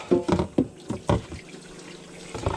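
Water draining from an RV gray tank, a few gurgling splashes and glugs in quick succession at first, then easing into a quieter trickle.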